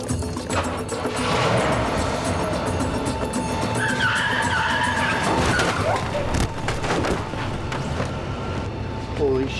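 A car speeds off with tires skidding and squealing, the engine roaring close and loud amid tense shouting voices.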